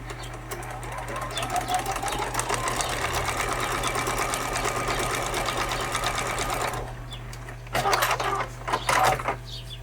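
Sewing machine chain piecing quilt sashing strips, a fast, steady mechanical stitching rattle running nearly continuously up close, then pausing and restarting in short bursts near the end.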